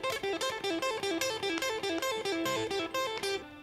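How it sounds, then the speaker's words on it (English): A guitar lick is played with hammer-ons and pull-offs, producing quick, smoothly connected notes in short repeating bursts, clean and close with no one talking. "If I wanted to play that using hammer-ons and pull-offs, it'd sound like this."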